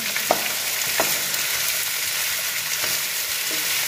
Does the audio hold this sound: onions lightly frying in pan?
yes